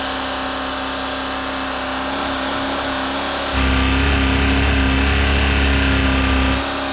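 A Porsche engine running without oil holds a loud, steady roar that jumps up sharply midway as it revs higher, then settles back down near the end; no speech.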